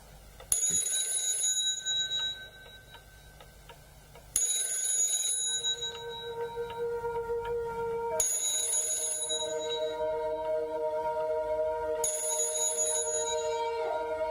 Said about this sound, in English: answer your phone, lady